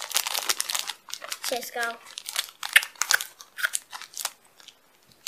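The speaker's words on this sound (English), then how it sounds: "How about you get those blind bags opened up?" Shopkins blind bags being cut open with scissors and torn apart, giving close crinkly plastic rustling and crunching in bursts while people talk over it.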